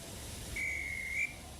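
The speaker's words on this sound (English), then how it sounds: "the guard's whistle blew" A guard's whistle blows once, a single shrill steady tone lasting under a second over a quiet low rumble.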